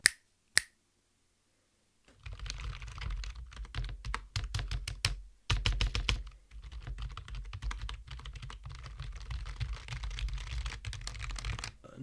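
Fast typing on a membrane computer keyboard, close and clear, with a dense run of quick key clicks that pauses briefly midway and then continues, after two isolated taps and a short silence at the start.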